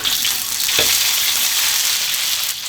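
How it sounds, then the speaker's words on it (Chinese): Scallion, ginger and spices hitting hot oil in a wok, a steady loud close sizzle with a brief clatter of stirring near the start and no voices. "锅然后下油， 葱姜香料下锅"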